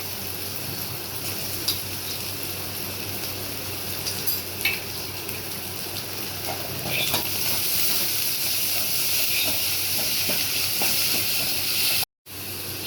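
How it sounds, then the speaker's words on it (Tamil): Onion fries with ginger garlic paste in a pan, a steady close sizzle and hiss with occasional stirring clinks, growing a little louder toward the end before a brief cut. "வெங்காயம் ஒரு வதங்கினாட்டி இஞ்சி பூண்டு பேஸ்ட் போட்டு"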